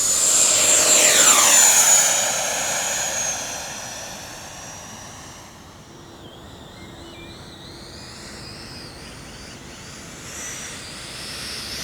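An E-flite F-16 Thunderbirds 70mm EDF jet roars past loudly, its high ducted-fan whine sweeping down in pitch as it flies by and fades into a steady, more distant drone overhead.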